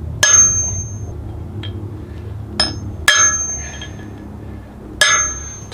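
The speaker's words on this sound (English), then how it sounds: "And then a center punch." A hammer strikes a steel center punch to mark drill holes on a metal part, four sharp ringing metallic taps spaced a second or two apart, loud and close, with no talking.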